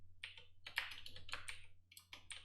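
Keys on a computer keyboard are typed in short irregular bursts of light, crisp clicks, close but quiet over a faint steady hum, with no talking.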